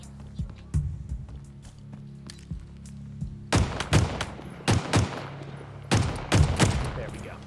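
Pistol fire in Halo Infinite, a string of sharp, punchy shots, sparse and lighter at first, then rapid clustered bursts, close and crisp over a low ambient game hum.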